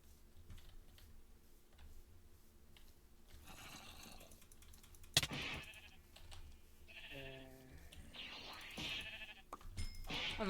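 Sheep bleat in a survival game of the Minecraft Dragon Block C mod. A short, wavering bleat sounds above steady keyboard typing and game noise, with faint clicks around it.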